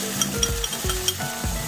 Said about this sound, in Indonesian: Kita langsung masukin sausnya.